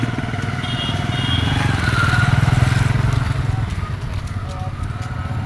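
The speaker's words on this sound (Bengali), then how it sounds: "শুধু মোটর সাইকেল যেতে পারে মোটর সাইকেল" Motorcycle riding across the old bridge in Sylhet, its engine giving a steady, close droning rumble that swells slightly midway, with faint voices and background noise around it.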